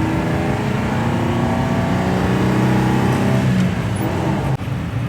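A 1955 Chevy 210 with a new carburetor idles close by in a steady, smooth, even hum that holds throughout, with a brief dip near the end.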